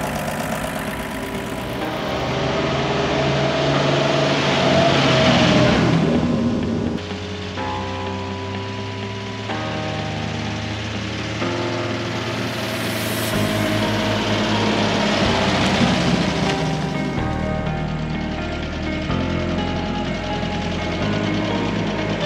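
An old Toyota Landcruiser engine idles steadily after an electronic ignition conversion, a continuous mid-pitched rumble heard up close for about twenty seconds, with a few brief shifts in tone and no talking.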